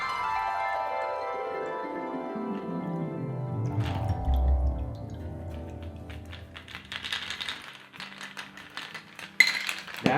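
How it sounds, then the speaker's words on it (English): A smoky campfire-style cocktail is poured into a glass, a close liquid stream whose pitch shifts as the glass fills, followed by a few soft drips and light glassy clinks. "Let's pour the drink in here."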